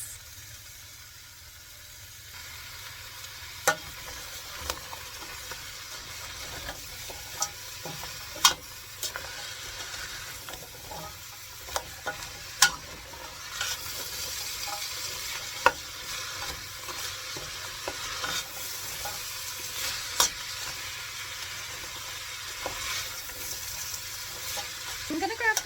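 Carrots, celery and onions sizzle in a stew pot, a steady soft frying hiss with occasional sharp clicks and scrapes of a spoon stirring, close but moderately quiet throughout.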